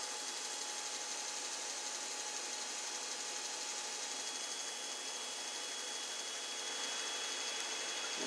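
A filament runout detector's feeder on a Creality Ender 5 Plus 3D printer pulls filament back out with a steady, close mechanical whir and buzz, unbroken with no talk.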